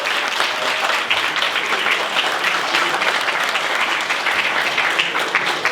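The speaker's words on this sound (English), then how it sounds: "Big round of applause for beautiful singing." An audience at a traditional Irish music summer school tribute concert applauds steadily and loudly after a sung performance. The clapping is dense and continuous throughout.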